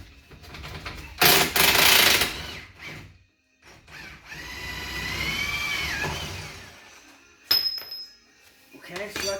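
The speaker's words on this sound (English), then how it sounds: "First thing to do would be to loosen the nut." A wrench or power tool working a nut on the rear suspension of a VW, Audi, Seat or Skoda car, with short loud bursts of whirring and ratcheting between pauses and a longer grinding stretch, close by.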